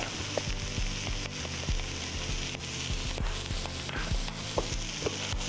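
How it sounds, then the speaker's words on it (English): Steady sizzling in a hot cast iron pan with scattered small pops and crackles as corn kernels crisp, continuous and close. "I can hear the corn starting to pop on me"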